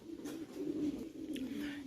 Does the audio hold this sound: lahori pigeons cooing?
yes